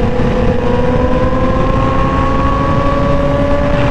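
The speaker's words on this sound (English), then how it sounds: "Racing my bike." A Kawasaki ZX10R or BMW S1000RR racing motorcycle roars at high revs, loud and close, holding a steady droning engine note with strong wind rush throughout.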